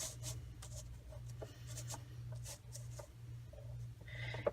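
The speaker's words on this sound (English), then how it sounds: "I'm going to cut it down to 6 by 6" Patterned Halloween-themed paper sheet being trimmed down to six by six inches, with soft rasping cuts and rubbing strokes repeating under a steady low hum, fairly faint and close.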